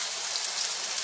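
Garlic and onion sizzling in hot oil for scrambled eggs, a steady, bright crackling hiss like light rain, continuous and fairly close throughout the short moment.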